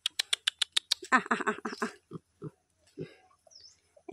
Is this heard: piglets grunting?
yes